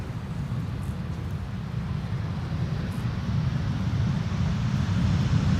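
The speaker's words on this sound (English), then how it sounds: "This is Lufthansa flight 988 arriving from Frankfurt." A Lufthansa flight from Frankfurt arriving at Schiphol on the Polderbaan runway, a low rumbling jet roar that grows gradually louder as it approaches, heard alone without talk.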